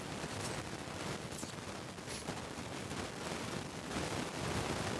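Game gunfire and explosive bursts from the shooter Free Fire, including a grenade blast, fill a dense, steady barrage of noisy booms with no clear single detonation standing out.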